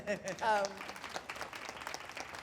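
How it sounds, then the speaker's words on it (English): Audience applause for Kenya Barris, creator of Blackish and Grownish, rising as a steady wash of clapping while a voice speaks briefly over its start. "he deserves Definitely deserves some applause"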